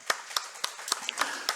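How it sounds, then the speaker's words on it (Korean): A church congregation claps in encouragement, giving about six sharp, evenly spaced claps in a quick rhythm. The sound is close and moderately loud. "우리 격려 박수 하겠습니다"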